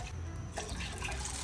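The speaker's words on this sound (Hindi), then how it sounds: "हम डेढ़ कप पानी डालेंगे" Water pours steadily into a cooking pot, about one and a half cups for boiling rice, a continuous faint rushing splash heard alone.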